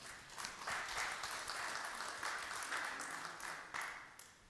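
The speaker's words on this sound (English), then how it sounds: "Please join us on the stage with a round of applause." Applause from a conference audience as panel members are called to the stage at a project management congress, steady moderately distant clapping with some sharper individual claps standing out, heard alone.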